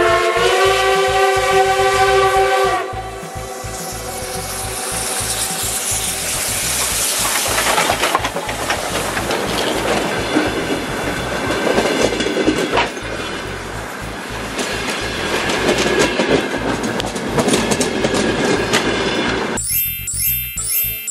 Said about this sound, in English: Great, that's the sound a locomotive makes.